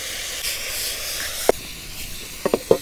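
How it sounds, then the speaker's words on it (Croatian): Onion and carrot fry in a pot over an outdoor fire, a steady soft sizzling hiss broken by a few sharp crackles and pops. "luk se uprži"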